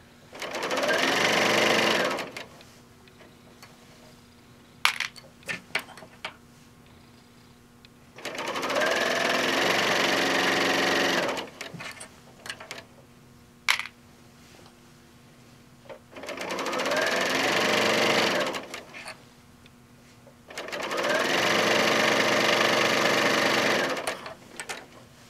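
Serger sewing machine trimming fabric for a blanket, running in four loud rapid-stitching bursts of a few seconds each, separated by quieter gaps with clicks and handling noises.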